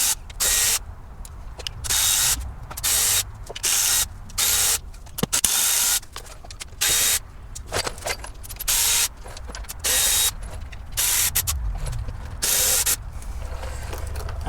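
Ratchet undoing Porsche Boxster transmission pan bolts in a crisscross sequence, repeated bursts of sharp clicking close up separated by brief pauses, with some clanking of tools.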